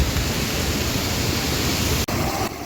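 Water gushes down forcefully at Sitakund dam in Bihar, a dense, loud, continuous roar that stays steady throughout, with no voices.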